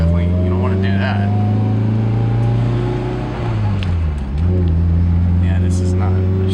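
Car with a 2.4L fuel-injected engine pulling away in third gear, a loud close engine drone that bogs down briefly near the middle before recovering, with faint cabin clicks.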